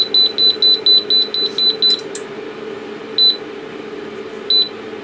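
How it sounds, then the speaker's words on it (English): Datron 4700 calibrator beeping at power-on during repair, a rapid run of about nine short high-pitched beeps, then two isolated beeps spaced apart over a low hum. "It's going to turn off and beep at me when I turn it on."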